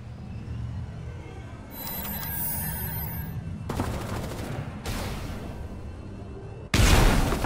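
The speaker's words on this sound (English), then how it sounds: "Shots heard." Gunshots in the mobile mech battle game Super Mecha Champions: a few sharp separate reports and a louder final burst over steady game ambience, with no talk.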